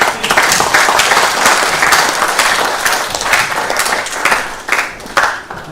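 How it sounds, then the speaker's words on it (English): Loud, close hand clapping from an audience at a community health partners' retreat, a dense burst of many hands lasting several seconds with slight surges. "I want you to receive him with a big hand clap."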